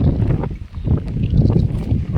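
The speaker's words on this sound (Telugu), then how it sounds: "చల్లగా ఉంది గాలి అయితే" Steady wind blows outdoors by a shed where young calves are kept, making a continuous low rumble of wind buffeting the microphone that swells and dips throughout.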